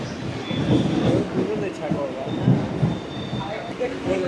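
Steady rumble and rattle of a Mumbai local train running along the tracks near Churchgate station, with faint voices mixed into the noise.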